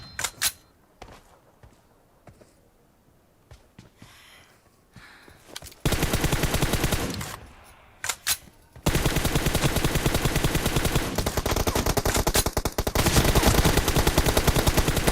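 PUBG gunfire: scattered single shots at first, then long, loud sustained bursts of rapid automatic fire that dominate the second half.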